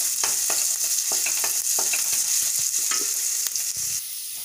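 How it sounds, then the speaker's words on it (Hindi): Green chillies fry lightly in a pan for a Chinese-style chicken Manchow soup, giving a steady, close sizzle with repeated scraping and stirring knocks of a spoon against the pan throughout, and no voices. "ग्रीन चिल्लीस छोड़ देते हैं। ये ज़्यादा नहीं भूनेंगे, हल्का सा भूनेंगे।"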